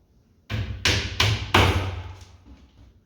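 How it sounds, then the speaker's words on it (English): A 22-ounce framing hammer drives nails into an IKEA upper cabinet with four sharp, evenly spaced whacks. The hits are close and loud, the last one rings out a little longer, and no one talks. "I use a 22-ounce hammer"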